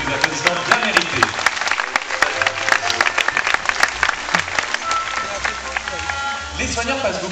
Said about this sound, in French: Quelques applaudissements bien mérités.